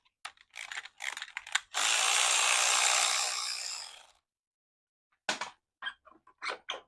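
A hex key works a bolt on a Permobil M3 wheelchair arm: quick bursts of close ratcheting clicks, then a sustained gritty whirring for a couple of seconds, a short silence, and more scattered clicking.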